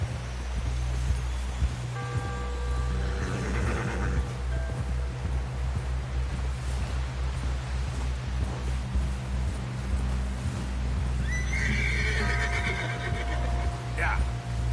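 A horse whinnies and snorts near the start and again toward the end in Red Dead Redemption 2, over a low rumbling bed with scattered hoof clops and rustling.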